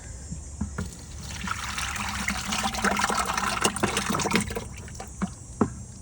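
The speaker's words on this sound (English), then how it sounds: "Dilute it with water." Water pours steadily into a 5-gallon bucket holding worm compost and shredded paper, a continuous splashing trickle lasting several seconds, close and fairly loud, tapering off with a few drips at the end.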